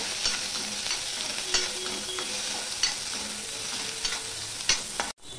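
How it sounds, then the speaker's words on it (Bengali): Garlic, onion, green chilli and chopped ginger sizzle steadily in hot oil in a pan, with scraping stirs recurring every second or so, close and moderately loud, with no talk. "সবার প্রথমে আমি রসুনটা দিয়ে দিলাম, পেঁয়াজটা দিয়ে দিলাম, কাঁচা লঙ্কা দিয়ে দিলাম, আদা কুচিও দিয়ে দিলাম। দিয়ে আমি একটুখানি নেড়ে চেড়ে নেব।"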